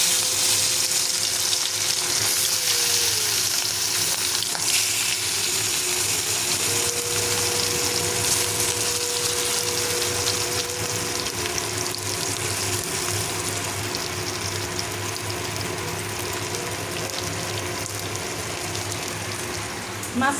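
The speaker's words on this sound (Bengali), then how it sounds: "তেল গরম হয়ে গেছে, এখন আমি মাছগুলো ভেজে নিচ্ছি" Rohu fish fry in hot oil in a wok, a loud, continuous sizzle with crackling spatter that holds steady for about twenty seconds, with a faint tonal hum underneath.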